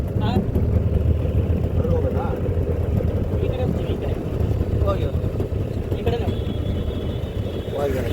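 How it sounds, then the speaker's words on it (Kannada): A motorboat engine drones steadily on a river near a suspension bridge in Honnavar, a continuous low rumble throughout, with people talking nearby over it. "ಬೋಟ್ ಬರ್ತಾ ಇದೆಯಾ?"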